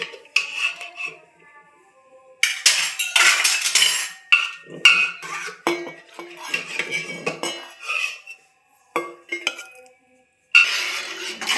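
Boiled drumsticks being moved into a bowl with metal utensils, giving a run of sharp clinks and scrapes in irregular bursts with short quiet gaps, close and fairly loud.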